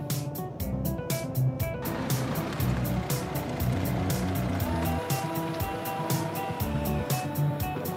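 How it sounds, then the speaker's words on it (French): A car on a road test drive hums along with steady engine and tyre rumble from inside the cabin, punctuated by rhythmic clicking ticks throughout, moderately loud and continuous. "je vous propose d'aller faire un essai dynamique du véhicule"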